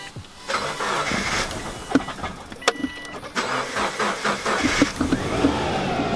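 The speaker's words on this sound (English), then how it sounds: "And it starts just like the description said at the auction." A 2005 Subaru WRX engine cranks and catches, then settles into a mid-pitched idle with a few clicks and clunks, heard close up inside the car and moderately loud.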